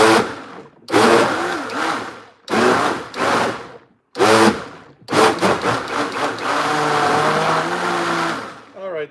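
A blender chopping food runs in several short pulsed bursts with gaps between, then a longer sustained whir, loud and close.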